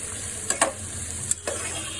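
Chopped vegetables with green and red chilies frying in a pan, a continuous close sizzle broken by a few quick scraping stirs of a spatula, no voices.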